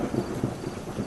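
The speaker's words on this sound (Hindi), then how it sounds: "बाहर ज़ोरों से बारिश हो रही है" Heavy rain and thunder outside, heard as a low, rumbling wash of sound that stays fairly steady through the brief moment, with no voices.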